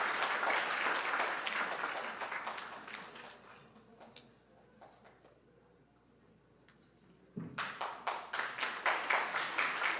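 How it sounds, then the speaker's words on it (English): Audience applause at a community concert event, clapping fading to quieter scattered claps midway before a fresh round of distinct, rhythmic claps rises again near the end. "let's please give him a big round of applause"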